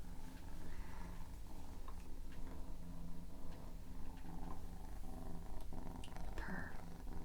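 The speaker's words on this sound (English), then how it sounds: "He's purring." A pet cat purring close up, a steady low continuous rumble throughout with faint incidental noises.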